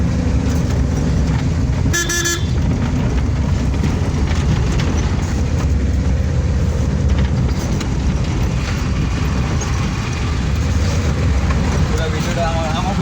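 A CNG auto-rickshaw motoring through busy traffic, its engine and road noise steady and close, with a sharp horn toot about two seconds in and voices talking over the din.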